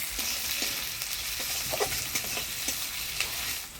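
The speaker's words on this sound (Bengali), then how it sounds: "তেলের মধ্যে আরেকটু তেল দিয়ে ফোড়ন দিয়ে দিব কালো জিরা, কাঁচা লঙ্কা, পেঁয়াজ।" Nigella seeds, green chili and onion hitting hot oil for a tempering, with a steady close sizzle and scattered spoon scrapes and stirring clicks, no voices.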